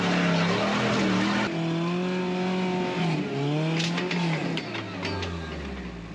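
At an off-road driving event, an off-road vehicle's engine roars loud and close at full throttle, its pitch climbing and shifting through the revs over several seconds, then easing off.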